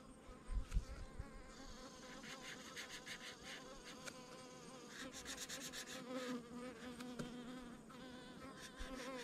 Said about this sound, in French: il y a une mouche qui gosse près de la caméra